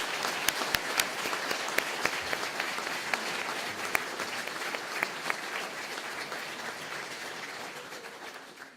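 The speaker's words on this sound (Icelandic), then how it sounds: "En við skulum klappa fyrir öllum þessum fjarverandi nemendum líka" Graduation ceremony audience applauding absent graduates, dense sustained clapping from a large crowd in a hall, fading slightly toward the end.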